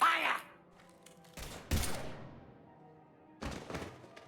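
Gunfire in Mass Effect 3, heard as a few sharp, separate bursts with short gaps between them, fairly close, while faint voices come and go in the background between the shots.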